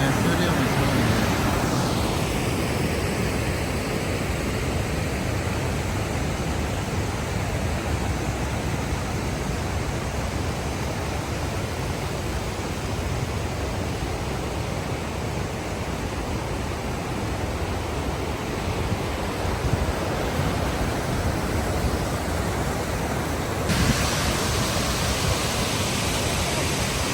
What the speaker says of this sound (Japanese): 雨降ったからね、水量もすごいね。